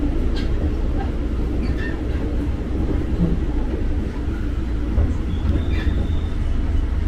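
A KRL commuter train pulls out from platform 2 at Duri station, a steady loud rumble of wheels and carriage noise filling the space, with faint voices in the background.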